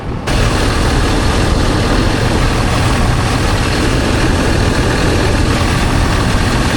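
A truck engine, freshly patched after losing coolant, idles steadily while warming up, a loud, even rumble close by from start to finish without voices.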